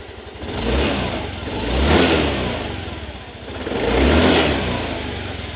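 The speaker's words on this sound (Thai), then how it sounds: "เสียงท่อรถเดิมๆนะครับ เดี๋ยวจะลองเร่งเครื่องให้ฟังเสียงได้ชัดเจนขึ้น" Stock exhaust of a 2023 Yamaha Grand Filano Hybrid scooter, revved in two or three swelling bursts that rise and fall over a steady idle, loud and close with no talking.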